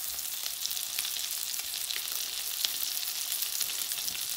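Meatballs brown in a frying pan over low heat, giving a steady, close hiss and crackle of sizzling fat with a few brief pops and no voices.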